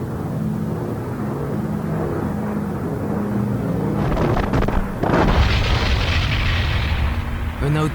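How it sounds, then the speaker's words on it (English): Heavy bombardment explosions during the Allied invasion of the beaches, a rumbling low barrage that swells into louder blasts midway, with deep booms rolling continuously and one sharper burst near the end. "An outburst of explosions wakes me up."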